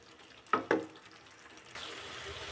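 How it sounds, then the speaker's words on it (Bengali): Spice paste (masala) for chicken curry is fried and stirred in a pan: two sharp utensil knocks come first, then a soft, steady sizzle rises and holds, fairly quiet overall with no voices. "দেখেন মশলাটা এরকম কষিয়ে নিচ্ছি।"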